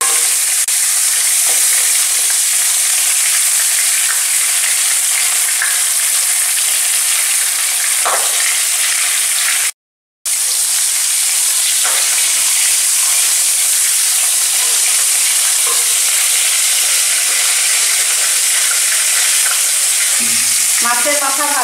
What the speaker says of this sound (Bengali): মাছের মাথা ভাজা হয়ে গেছে